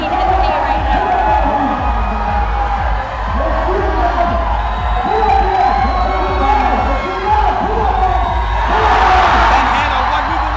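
A crowd at a USA Climbing competition cheers loudly and continuously, with whoops and shouts swelling toward the end while a voice talks over the din.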